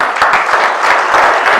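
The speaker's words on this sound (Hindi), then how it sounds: "जोरदार तालियां" A village crowd applauds loudly at a political rally in Kurukshetra, a dense, steady wash of clapping that fills the whole moment.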